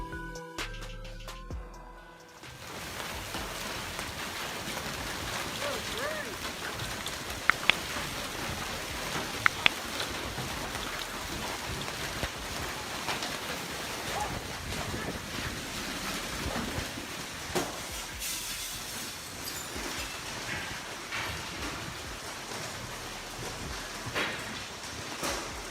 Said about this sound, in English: A wild hailstorm struck out of nowhere, dropping softball-sized hail across the city.